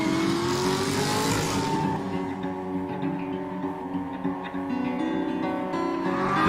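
A Chevrolet Corvette ZR1 engine runs loud and close, a sustained deep drone that rises in pitch, then settles into a steady roar.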